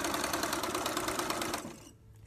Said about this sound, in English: So I'm going to continue sewing these teal, and then I'm going to sew the blue.